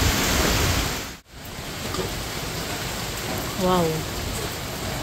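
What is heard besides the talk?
strong rain and wind from Typhoon Uwan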